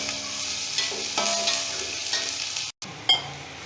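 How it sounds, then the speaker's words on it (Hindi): Sliced onions sizzle steadily in hot oil while being browned for tahari, with scraping spoon strokes against the pan; a brief dropout and a sharper clink come near the end. "इसलिए हमें प्याज को लाइट ब्राउन करेंगे।"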